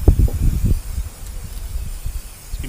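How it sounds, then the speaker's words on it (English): Oil sprays from an aerosol can onto camp ovens at an outback campsite in bursts of hissing, loudest at the start and then softer and steadier. "Let's give me a bit of a spray."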